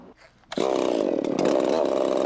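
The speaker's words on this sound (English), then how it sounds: "The saw for the job, a W.F. Meyers diamond belt saw." A W.F. Meyers diamond belt saw, a chainsaw-like bar-and-belt machine, cuts limestone in a quarry. After a brief quiet start it roars in abruptly, loud and close, holding a steady, gritty engine-driven whine to the end.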